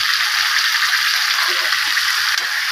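Spices and garlic paste sizzle steadily as they stir-fry in a pan, a constant close hiss of frying with faint stirring scrapes underneath and no talking.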